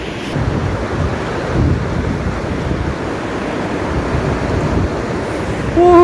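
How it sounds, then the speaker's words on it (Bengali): Baspa river rushing past at Chitkul in the Kinnaur Valley, a loud, steady broadband roar of flowing water close by with wind buffeting the microphone. "দেখুন কল কল করে বয়ে চলেছে বাঁশপা নদী"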